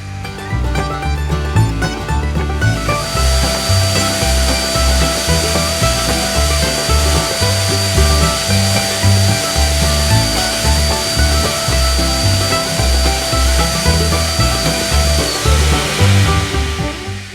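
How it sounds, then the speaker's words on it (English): A power tool cuts and smooths a wooden joining piece for two kayak hulls, a loud, steady whining grind close by that runs almost without pause, no one talking. "Now I can clean cut the other side. And smoothen this side as well."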